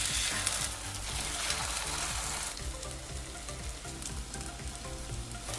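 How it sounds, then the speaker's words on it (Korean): Spoonfuls of enoki mushroom pancake batter fry in a pan over medium heat, giving a continuous close, soft sizzle and crackle with gentle popping and no voices. "재료를 1스푼씩 떠서 중불에서 노릇하게 구워줍니다"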